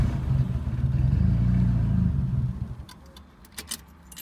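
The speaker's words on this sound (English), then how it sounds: "I got it to the point where it would kind of start on its own without starter fluid, but then die right away" A 1980 Fiat 124 engine catches on its own fuel and runs roughly at a loud, steady idle for about two and a half seconds before dying away, followed by faint metallic clicks and rattles.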